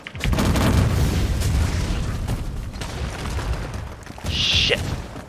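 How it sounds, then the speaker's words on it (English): Exploding hell hounds bursting in Warhammer 40k Inquisitor Martyr, loud dense booms and blasts under sustained heavy-gunner fire, with a bright sharp pop near the end. "You're not allowed to explode on me when you die."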